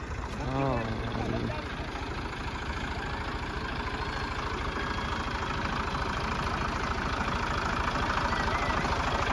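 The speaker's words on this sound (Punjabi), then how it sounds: "ਪਿੱਛੇ ਟਰੈਕਟਰ ਆਉਂਦੇ ਤੁਸੀਂ ਦੇਖ ਸਕਦੇ ਹੋ।" A tractor engine runs in a rural village with a constant low rumble throughout, close and steady, and a brief tonal sound rises over it at the very start.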